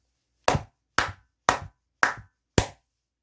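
Five single, sharp hand claps from one person, evenly spaced about half a second apart, close and loud with silence between them.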